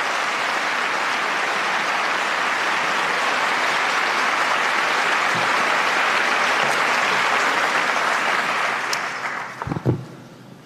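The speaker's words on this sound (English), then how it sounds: "Let's give him a warm round of applause." A large audience at a legal profession event gives the NAPABA president a warm round of applause, steady and full for nearly nine seconds before tapering off with a few final claps and thumps.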